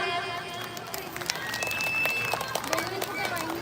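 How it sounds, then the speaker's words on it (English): Primary school students clapping after a dance performance at a Janmashtami celebration, a steady wash of many small hands applauding with crowd noise and faint voices, continuous at moderate level throughout. "All the students clap for them."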